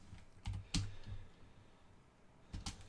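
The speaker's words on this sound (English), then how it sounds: "I'll just type a sentence here." A computer keyboard is typed on in a few scattered, faint clicks and taps that come close but quietly, with gaps between the keystrokes.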